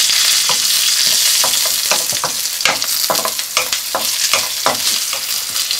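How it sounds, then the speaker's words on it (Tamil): Cumin seeds and green chilies crackle in hot ghee, a dense, loud sizzle broken by repeated sharp pops and stirring clicks, close up with no voices. "இப்போ நெய் காஞ்சிருச்சு, ஜீரகம் போட்டுக்கலாம். ஜீரகம் பொரிஞ்சதும் பச்சை மிளகாய் போட்டுக்கிறேன்."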